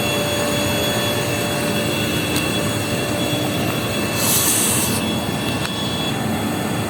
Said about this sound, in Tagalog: underground namin na makina. Pang sip-sip yan sa dagat.